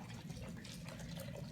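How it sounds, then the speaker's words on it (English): Spring water pouring into a jar for a hay infusion culture: a soft, continuous liquid trickle and bubbling, quiet and close, with no other sounds. "I'm just going to fill this up with spring water."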